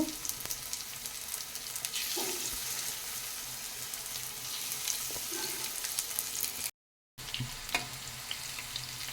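Onion pakoras made with coriander stems fry in hot oil with a soft, continuous sizzle. A few light clinks of stirring or turning come through, and the sizzle cuts out briefly near the end.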